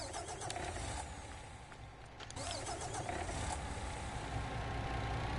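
A low-loader truck engine in a driving video game runs in a steady mid-pitched drone, dipping briefly and then holding a constant, fairly loud idle-like rumble throughout.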